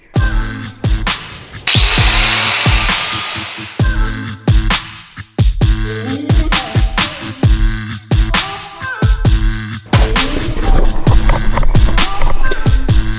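A loud, close power tool whines and buzzes in repeated bursts as it cuts foam for a cafe racer motorcycle seat, with short pauses between passes.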